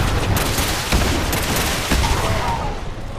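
Turrets firing at super mutants in Fallout 76, a dense rattle of rapid gunfire with sharp shot bursts, loud and continuous throughout.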